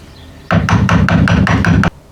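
Hammer blows drive a chisel against a mud-caked, rusty rear subframe, eight quick loud metallic strikes in a steady rhythm, close by, followed by silence.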